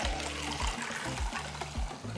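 Horchata poured through a strainer or sieve, a soft steady trickle of liquid with a few brief splashy pulses, close and fairly quiet.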